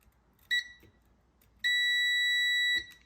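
A multimeter in continuity mode beeps as its probe touches the cut end of an enameled copper wire: one short electronic beep, then a sustained beep of about a second, clear and close over quiet background.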